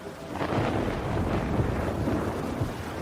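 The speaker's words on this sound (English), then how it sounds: "A massive storm falls upon the two warships." Storm at sea crashing over two warships, rendered as a sound effect: a dense, continuous roar of wind, rain and surging water, loud and unbroken throughout with no voices.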